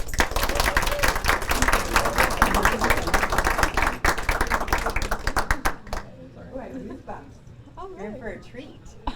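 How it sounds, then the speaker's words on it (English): Warm audience applause welcoming a speaker at a wellness expo, a loud sustained burst of many hands clapping for about six seconds before dying away into a single voice speaking close. "I would love for you to give a warm round of applause for Laara."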